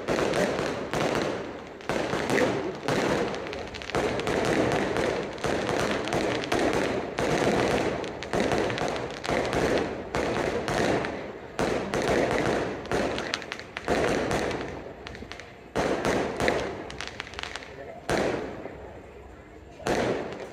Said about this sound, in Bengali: বাহিরে অনেক বাজি ফুটাইতেছে, দেখো